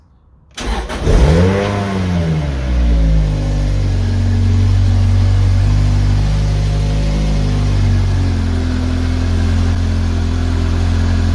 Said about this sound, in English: So what we'll do is we'll start the car.